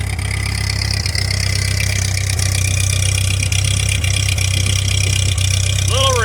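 An old vehicle engine idles steadily after carburetor repair, running a little rich with a cracked venturi tube, a loud close low rumble lasting several seconds, with a brief rising whine near the end.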